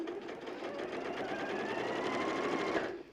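A sewing machine runs steadily across a quilt seam, its rapid, even needle rattle close and continuous for about three seconds before cutting off.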